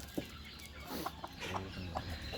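Hen of the Burmese game-fowl type, about four years old, clucking in a short run of separate, fairly near clucks over a low steady background hum.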